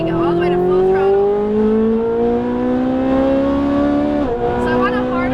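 A Ferrari 458 Italia's engine pulls hard at full throttle on a track, its loud, steady howl climbing in pitch for about four seconds, dipping briefly at an upshift, then carrying on under a voice.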